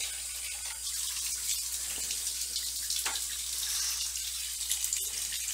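Tap water runs steadily over a gaming mouse pad as the soap is rinsed out, a close, continuous hiss and splash with small shifts as the pad is moved under the stream, with no talking.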